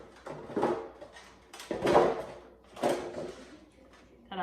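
Halves of spaghetti squash are flipped over in a baking dish in a home kitchen, giving several close, hollow clunks and scrapes against the dish, with a brief sound of a person in between.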